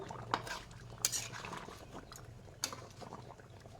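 A spoon clinks and scrapes against a metal pot as thick fish curry is stirred and mixed. The taps are quiet and irregular over a faint bubbling, with no voices.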